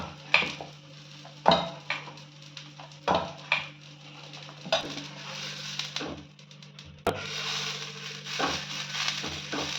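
Tomato dosa batter stirred in a metal bowl, with spoon knocks and scrapes in an irregular rhythm, close and moderately loud over a steady low hum, with no talk.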